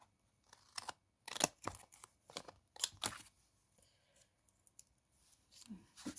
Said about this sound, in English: let's turn this over and cut these bits off